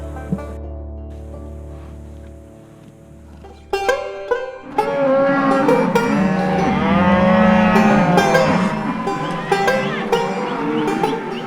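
Cattle on a Low Country farm, herded in to be treated for horn flies, moo loudly in long, drawn-out calls that overlap. A low rumble comes first, then several animals bellow close by.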